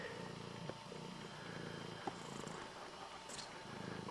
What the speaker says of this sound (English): At least you're purring.